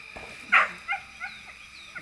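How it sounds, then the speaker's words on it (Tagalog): A pet dog at a house along a rural path gives one clear, fairly close bark, followed by a few softer, shorter yips over a quiet outdoor background. "May alaga silang aso ron ah."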